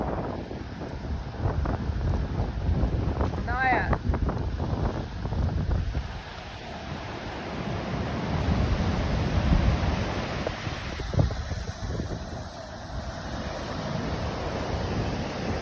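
Strong gusty wind on the coast at Anatori, New Zealand, buffets the microphone continuously, roaring low and loud, with surf in the background and a brief voice speaking.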